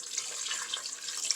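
Water pouring steadily into a cooking pot for arroz con pollo, a continuous close splashing rush without breaks and no talking.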